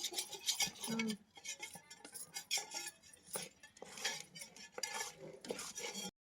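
Cake batter is stirred in a bowl with a spoon, giving repeated scraping and clinking strokes against the bowl in an uneven rhythm, close up and fairly quiet.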